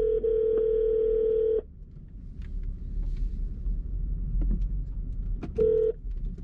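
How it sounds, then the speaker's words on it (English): A phone call rings out with a steady electronic ringback tone for over a second, then a quiet low rumble with faint clicks before the tone briefly returns, no talking. "gonna call Dennis and let him know his bike is on its way"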